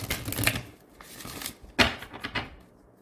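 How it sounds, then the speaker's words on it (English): A deck of cards is shuffled close by, riffling in quick papery bursts with brief pauses between, quiet and alone with no talking. "all the cards, so many cards, they just flew off. So I'm gonna shuffle again"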